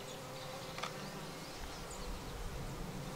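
Honeybees buzz around an open hive during an inspection, a faint, even drone of many insects with no talk over it.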